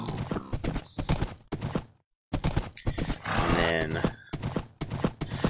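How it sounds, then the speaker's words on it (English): Minecraft horse clip-clopping with repeated hoof clops and a whinny, close and clear in short bursts broken by a brief silence, under steady talk. "so I park my horse there"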